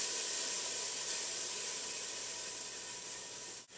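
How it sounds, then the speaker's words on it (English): Water sizzling in a hot pan, used as a rain sound effect: a steady, dense, close hiss that holds evenly for several seconds before cutting off near the end. "our pan with sizzling water in it"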